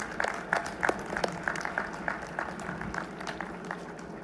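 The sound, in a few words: commencement audience applauding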